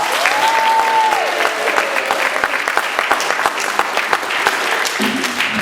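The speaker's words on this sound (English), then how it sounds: "Please give this very brave young man a big round of applause." Loud audience applause in an Asbury auditorium during a comedy show hosted by Taylor Mason, with dense, sustained clapping, a brief tonal whistle or note early on, and a low voice-like sound entering near the end.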